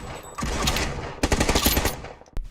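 PUBG M24 bolt-action sniper rifle fire in a video game, a dense burst of loud gunfire with a second cluster of rapid cracks, ending on one sharp isolated shot.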